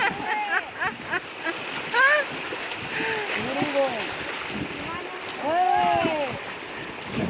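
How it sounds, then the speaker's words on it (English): A rubber raft runs through rapids on the Jia Bhoroli river in Assam, with a steady rush of churning water and splashes throughout and voices calling and talking over it. "My kids and father enjoying rafting with me on the Jia Bhoroli river."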